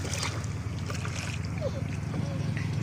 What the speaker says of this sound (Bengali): এই তো নৌকা চলা শুরু হয়ে গেছে